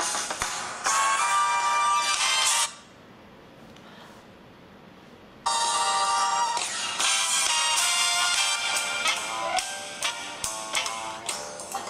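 Dance music played through the small built-in speaker of a Samsung Galaxy S4 phone, bright and thin with a steady beat, breaking off for a few seconds of near silence before resuming.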